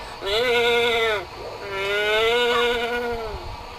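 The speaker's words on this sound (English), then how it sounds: "Oh, I hear a mooing bird." Two long, drawn-out lowing calls with a bleating, moo-like tone from a mooing bird in The Legend of Zelda: The Wind Waker, loud and close, separated by a brief pause.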